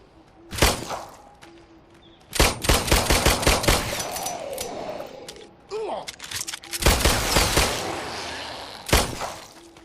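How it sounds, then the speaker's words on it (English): Gunfire in the VR shooter The Brookhaven Experiment: several bursts of rapid shots spread across the clip, loud and close, separated by quieter game ambience with creature noises. "The guns feel good too, like the shooting"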